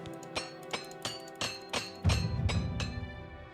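A repair hammer strikes gear in the video game Oblivion Remastered, giving a regular series of about eight bright metallic clinks that ring on.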